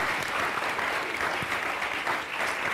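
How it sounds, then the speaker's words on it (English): A community health event audience gives a big round of applause for the sponsors and speakers, a steady dense wash of many hands clapping without letup. "let's have a big round of applause for our 5 sponsors"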